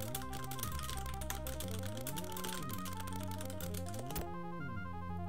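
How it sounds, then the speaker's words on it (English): Rapid keyboard typing in the game Mario Teaches Typing, clicking quickly over bright, looping in-game music with shifting tones. "so now we start actually typing this phrase up here at the top"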